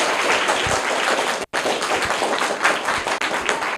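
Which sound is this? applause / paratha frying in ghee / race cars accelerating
applause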